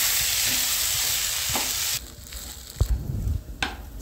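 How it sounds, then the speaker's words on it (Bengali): Soaked rice for basanti pulao fries and is stirred in a hot pan, a loud hiss of sizzling that drops off partway through, followed by scraping stir strokes and clinks. "এবার আমি চালটা ভালো করে ভেজে নেব।"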